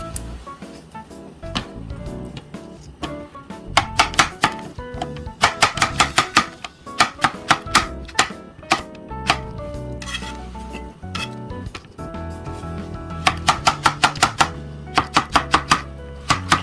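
Knife chopping cucumber into half-moon slices on a cutting board while preparing seasoned cockles, with quick irregular bursts of crisp close taps and steady rubbing between them, no speech.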